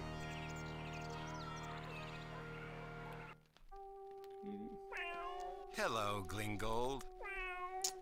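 A house cat meowing in the Star Trek: Judgment Rites computer game, several close, drawn-out caterwauling meows following an earlier stretch of sustained music and a short spoken line.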